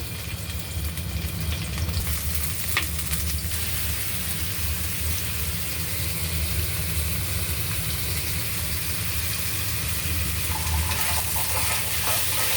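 Garlic sautéing in a pan for ginisang ampalaya with chicken, a steady loud sizzle of frying oil with occasional stirring and clinks, running on without talk.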